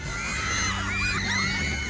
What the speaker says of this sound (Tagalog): Mas lumakas ang hiyawan nang makapiling na ng Kapuso fans ang kanilang idol na si Tom Rodriguez